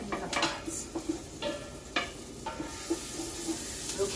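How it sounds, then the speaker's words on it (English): Onions for a vegetable soup are stirred in a pot with a spoon, producing repeated scraping clinks against the metal over a soft sizzle, close and fairly quiet with no talking. "We'll stir and stir and stir some more."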